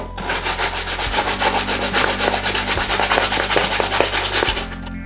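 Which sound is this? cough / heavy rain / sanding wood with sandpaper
sanding wood with sandpaper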